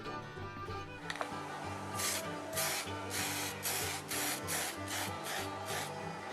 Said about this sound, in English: now we've just got to throw a little bit of